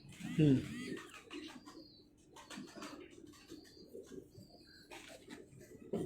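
Ferozpuri pigeons give soft, low cooing with occasional wing flutters, fairly faint and mixed under people talking nearby.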